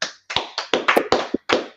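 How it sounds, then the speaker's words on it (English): About seven separate sharp claps land in an uneven rhythm, close and distinct with short gaps, like a small group clapping briefly rather than a full audience. "Clap it up for class, man."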